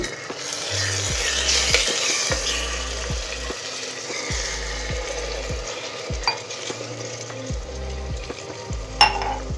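Chicken and potatoes fry in masala in a clay pot for an Odisha mati handi chicken. A steady sizzle runs throughout while a spoon stirs and scrapes the pot in repeated strokes, with a sharp clink near the end.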